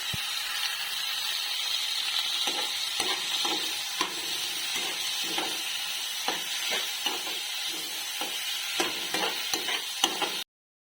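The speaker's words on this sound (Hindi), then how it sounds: "इसके बाद हम इसमें डालेंगे बिल्कुल छोटे छोटे पीसेस में कटे हुए टमाटो" Chopped tomatoes sizzle in frying black masoor dal, a steady hiss with scattered stirring clicks and scrapes from a spoon in the pan, no talk.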